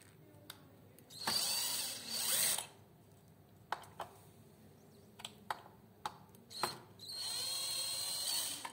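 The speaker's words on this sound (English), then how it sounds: "Use the drill to open the remote controller" A power drill opens a remote controller box for a 360 photo booth motor controller, with two longer whirring bursts and later a sustained run, broken by sharp clicks and ratcheting taps, close and alone.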